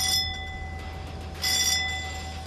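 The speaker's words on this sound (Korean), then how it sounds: "종소리와 함께 이튿날 아침 첫 조업이 시작됐습니다." A ship's bell on an anchovy fishing boat at sea rings in the morning, two bright clangs about a second apart over the steady drone of the engine.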